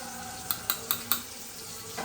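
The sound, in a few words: stirring spice mixture (masala) while cooking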